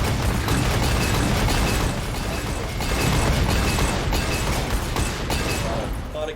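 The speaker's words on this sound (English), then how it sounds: "A lot of cannons." Cannons firing in Legends of Runeterra: a loud, continuous barrage of booming blasts and crackling bursts rolling for several seconds before easing off at the end.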